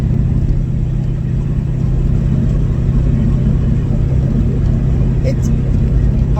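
A 1997 Mustang Cobra with a swapped-in Coyote engine cruises in fifth gear at about 2,000 RPM, a loud, steady low rumble with constant road noise inside the car, while someone talks over it.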